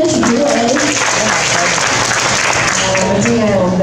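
Steady, dense applause from a seated crowd welcoming a party official to the podium at an election campaign dinner event, sustained and loud throughout with some voices mixed in.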